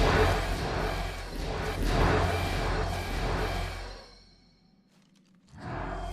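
Speedy Harvester in a PVE video game making a harsh, noisy whooshing grind that runs for about four seconds, drops to near silence, then starts again at the end.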